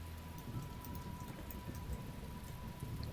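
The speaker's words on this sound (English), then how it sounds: "Rainy vibes." Steady rain falls in The Talos Principle video game, a soft, even hiss of drops on surfaces that continues without a break and with no other sounds.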